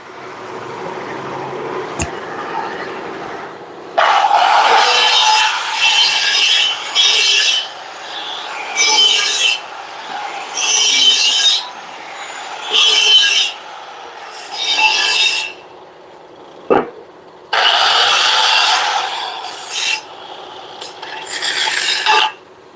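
Rasping file strokes work the cut edges of a 7-inch driveshaft tube in repeated bursts of scraping with brief pauses between passes, loud and close with no talking.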